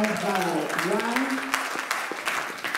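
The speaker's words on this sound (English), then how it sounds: "Let's applaud God." Scattered clapping from a church congregation in the Dallas/Fort Worth area rises under a preacher's voice speaking over it during a sermon, fairly faint and brief.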